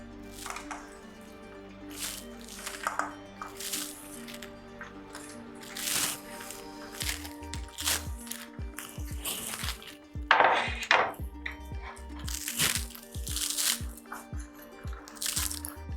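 Chopped mushrooms, red cabbage and yellow capsicum tipped into a dish, producing a busy run of close crunches, taps and clattering pieces, with one louder scraping burst midway.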